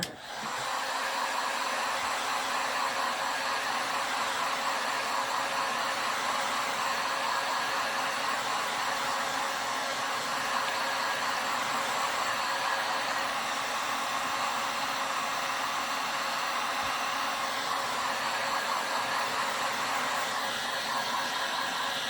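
Steady, continuous whoosh of a hair dryer blowing close up as it dries paint on a painted door hanger, holding an even, loud broadband roar for the whole stretch with no talking.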